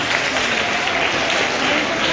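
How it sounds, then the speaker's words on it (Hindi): Children and guests at a school children's assembly clap loudly for a 101-year-old grandfather, a thick, continuous wash of applause with a voice speaking faintly underneath. "बच्चों के बीच में 101 बार सकते हैं हमारे दादा जोरदार तालियां"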